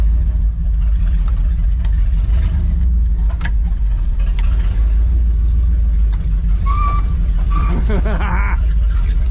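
A 1968 Chevy Suburban, an old truck saved from the scrapper with very sticky brakes, runs throughout with a loud, steady low engine rumble. A few faint high chirps show near the end.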